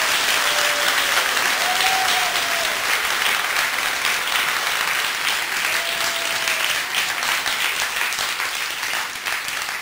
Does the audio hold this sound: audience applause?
yes